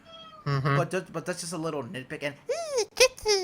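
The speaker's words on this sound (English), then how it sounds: "That's my cat crazy again." A pet cat meows in a few short, rising and falling calls near the end, heard close behind someone talking on a podcast.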